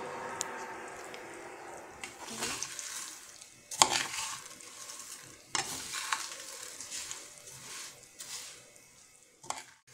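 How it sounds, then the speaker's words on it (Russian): Noodles sizzle and crackle in a hot pan, with periodic scraping and stirring sounds punctuating the frying, no talking. "Высыпала уже лапшичку, и она уже у меня жарится."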